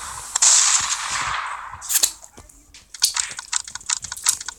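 Gunfire in a video game: a sharp gunshot rings out early, followed by a burst of further rapid, crackling shots and impacts at close range, with no talking.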